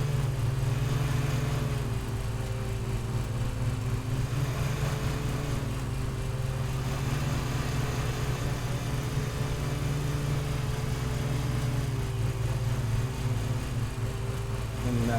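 Zero-turn lawn mower engine in Lawn Mowing Simulator droning steadily and close, a continuous humming run with slight pitch wavers and no pauses.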